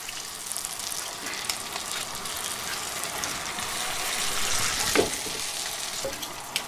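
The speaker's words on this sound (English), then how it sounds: "That means we're in good action here for some deep frying." Potatoes deep frying in hot oil, a dense, continuous bubbling sizzle heard up close that swells slightly partway through, with no voices over it.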